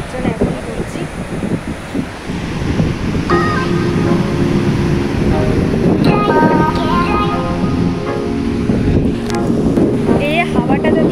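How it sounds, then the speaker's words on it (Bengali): Outdoor wind buffets the microphone in a constant low rumble and gusty roar, with people talking and voices rising in pitch over the blowing. "এই হাওয়াটা তো দিচ্ছে, এই হাওয়াটাই বেশ ভালো লাগছে"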